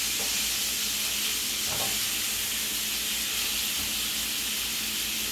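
Shrimp sizzle in a hot pan as they are stirred, a dense, loud, continuous hiss with faint scraping, heard close and without talk.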